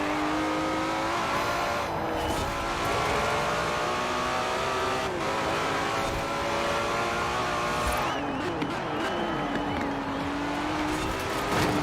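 A car racing in Forza Horizon 4, its engine droning loud and continuous with repeated shifts and revs, a brief dip and fresh acceleration near the end, with faint background talk at times.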